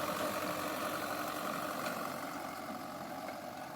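A tractor engine runs steadily while working a rotavator through dry, dusty soil in an orchard among tree branches, giving a continuous, fairly loud mechanical drone that eases slightly toward the end with no voices.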